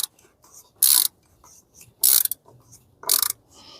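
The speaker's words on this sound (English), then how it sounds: "the 36mm shallow socket here, and you're gonna twist it on the rest of the way" An oil filter housing cap on a 2004–2010 BMW X3 E83 with a 2.5 or 3.0 engine is turned on with a 36mm shallow socket, giving three loud ratcheting bursts separated by quiet pauses.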